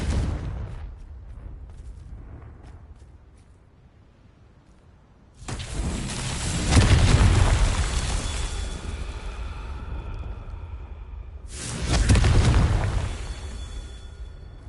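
Confringo spell explosions in a Harry Potter video game, a couple of loud, deep booming blasts that roll and fade over several seconds after a quieter stretch, with no talking.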